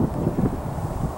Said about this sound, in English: Wind has been really strong, even though it's from the south.